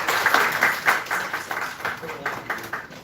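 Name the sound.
audience applause at launch event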